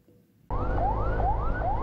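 Ambulance siren carrying prisoners to hospital: after a quiet rumble it switches on abruptly, a loud close wail rising and falling in quick repeated sweeps over road noise.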